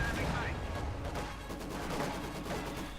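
A StuG assault gun fires on a field gun during a Company of Heroes 2 battle, heavy booming gunfire amid dense, loud combat rumble with a commentator's voice over it.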